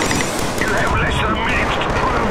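A rocket launcher fires in the multiplayer shooter Killzone 3 on a snowy dam map, making a loud, dense blast and rumble that fills the whole moment amid constant battle noise.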